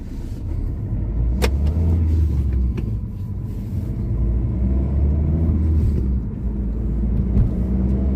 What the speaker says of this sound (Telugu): ఇప్పుడు మేము టెస్ట్ డ్రైవ్ ఎత్తుకొచ్చినాము